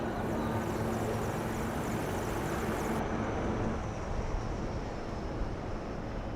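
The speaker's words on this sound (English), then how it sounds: "two Apache helicopters and two advanced light helicopters, Mark IV aircraft in echelon" Apache attack helicopters, advanced light helicopters and aircraft fly past in formation at India's Republic Day parade, a loud, steady, continuous rotor and engine roar with no pauses.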